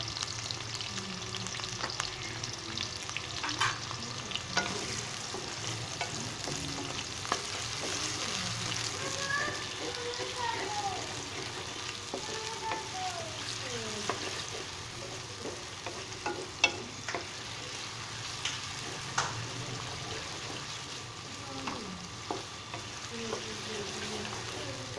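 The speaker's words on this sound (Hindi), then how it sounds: "कुकिंग ऑयल मेरा गर्म हो चुका है, इसमें मैं प्याज शामिल कर लेता हूँ" Onions sizzle steadily in hot cooking oil while a ground beef and capsicum dish is prepared, a continuous frying hiss with occasional stirring scrapes and faint background voices.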